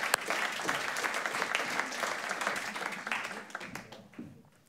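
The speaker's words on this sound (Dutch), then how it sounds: "Een hartelijk applaus voor Baron." Warm applause from an audience at a book presentation, dense, even clapping at moderate distance that holds steady and then fades toward the end.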